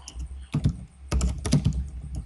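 Rapid clicks of keys on a computer keyboard, heard close up in bursts of quick strokes with short pauses between them and no voices.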